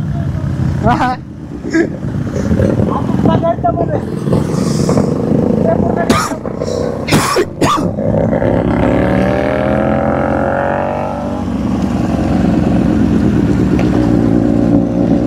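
Kawasaki, Hyosung and Dominar motorcycles at a race start, loud engines revving and rising in pitch with a sustained roar, while people talk excitedly over the noise throughout.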